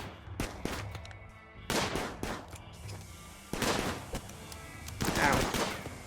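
Bursts of gunfire aimed at a turret in the colony game Rimworld ring out in several sharp volleys, close and fairly loud, separated by brief lulls.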